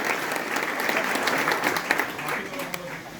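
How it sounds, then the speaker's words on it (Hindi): Crowd applause at a cow protectors' association convention at Pateshwar Dham, with steady clapping from many hands and a few sharper individual claps, while a voice talks over part of it. "एक बार बड़े भैया के लिए ताली बजा"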